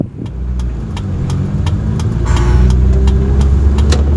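A Kia Visto car engine runs while driving, a rumbling mid-pitched hum that gradually rises and grows louder, with regular light ticks or clicks repeating over it.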